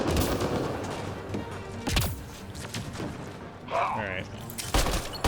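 Valkyrie rifle fire in Mass Effect Andromeda, sharp bursts of shots between stretches of game noise. Someone speaks briefly under and between the reports.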